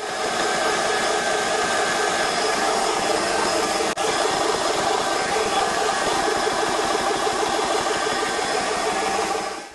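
A SMACO HPA portable air compressor runs with a loud, steady mechanical drone. There is only a momentary dip partway through before it carries on unchanged to the end.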